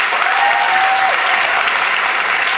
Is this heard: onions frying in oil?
no